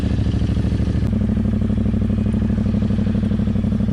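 A 2020 Ducati Diavel 1260 S with a full system exhaust idles close by, its deep, loud, steady engine note thrumming throughout with a slight lumpy pulse and no talk.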